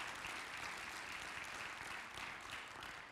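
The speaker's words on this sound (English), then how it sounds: "Give the Lord a hand clap" A church congregation claps hands together in a steady, dense wash of applause that holds at an even level throughout, quiet and somewhat distant, with no voices over it.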